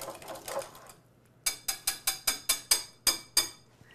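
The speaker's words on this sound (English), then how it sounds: "now I'm gonna whisk my pumpkin puree into my eggs" A whisk beats pumpkin puree into eggs in a bowl with a rapid run of sharp, rhythmic clinks, about ten evenly spaced strokes after some softer, blurred ones, close and clear with no talking.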